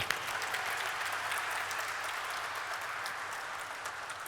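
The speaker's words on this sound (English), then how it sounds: "Round of applause for them." Applause welcomes new investors at an NSE IPO bell-ringing ceremony, a broad, even roar of many hands clapping from a crowd, sustained and fading slightly toward the end.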